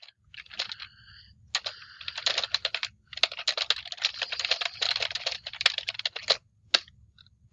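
Rapid typing on a computer keyboard comes in uneven bursts of sharp clicking, with short pauses in between and a few isolated key taps toward the end, heard close against a quiet background.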